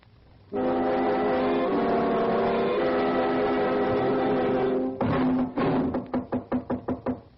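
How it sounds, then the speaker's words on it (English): A long sustained horn-like blast is followed by a rapid series of loud, sharp knocks on a door that come in a quickening burst. "About one more knock like that, and them hinges will give up the struggle."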